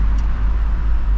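Diesel Volkswagen Multivan with a knocking fault under the hood, driving through Yerevan, Armenia: a steady, loud low rumble of engine and road noise fills the short stretch without a break.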